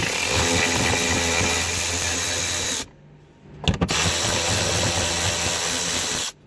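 A power driver runs loudly and steadily to back out small screws from the trailer brake controller panel on a 2017 Ford F350, stopping briefly with a short burst in the pause before whirring again.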